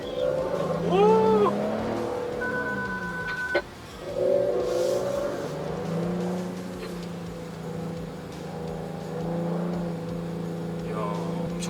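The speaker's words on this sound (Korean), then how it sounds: "스포츠 플러스 되니까는 막 다운시프팅이 파워풀한데" A Genesis GV70 in Sport Plus mode, its engine and active sound blipping and surging through downshifts with rising and falling tones, heard from inside the cabin while people talk over it.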